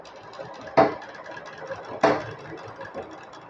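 A home sewing machine stitches slowly during a basic stitch practice lesson, giving two distinct mechanical thumps about a second apart over a soft background hum, close and moderately loud.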